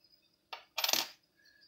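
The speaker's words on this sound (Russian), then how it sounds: "И монета номиналом 10 пайс." Indian paisa coins handled and dropped: a short metallic jingle followed by a brighter clinking burst of several coins, close and clear against quiet.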